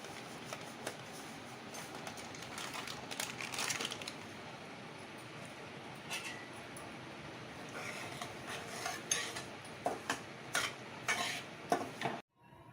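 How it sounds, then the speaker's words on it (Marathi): Semolina (rava) roasts in ghee while a spoon stirs it in a pan, producing faint, irregular scrapes and small metallic clicks that grow sharper and more frequent toward the end, in a quiet kitchen with no talking. "तूप टाकून घेऊ आपण यात आणि थोडा थोडा करून आपण रवा भाजून घेणार आहे यात"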